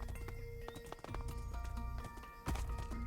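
Horse hooves clip-clop steadily in Minecraft, a fast run of hoofbeats with a brief whinny, close and clear with no talking.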